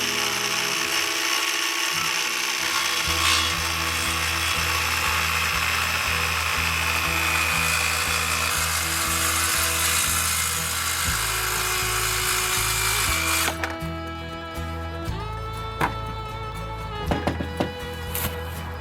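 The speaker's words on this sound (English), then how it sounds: "I'm going to take my skill saw and rip this board" A skill saw rips lengthwise through a wooden board, a loud steady high whine that holds for many seconds as the blade moves along the cut, then drops in pitch and spins down near the end.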